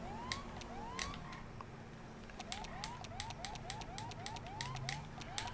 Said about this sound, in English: You hear my sirens and see my car.